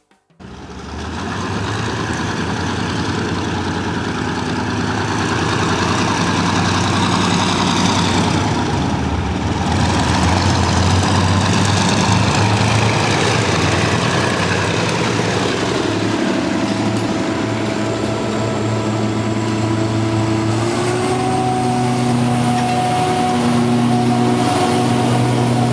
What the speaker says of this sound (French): en écoutant les deux moteurs Renault du 2400 et l'inimitable MGO du 2800 qui s'élancent